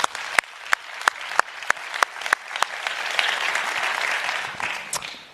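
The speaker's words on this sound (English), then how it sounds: "I think they too deserve a round of applause." Audience applause at the Bloomberg New Economy Forum, opening with a few sharp, spaced claps that swell into sustained, fairly close clapping from the crowd before easing off.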